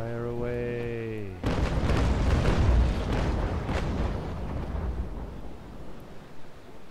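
Ship cannons fire in the Naval Action video game, heavy booming salvos that erupt after a sustained tone and roll on in overlapping thuds, loud then trailing off with scattered later blasts.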